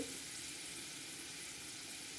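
Steady crackling sizzle of spices tempering in hot oil for coriander and mint chutney, continuous and close, with no voices.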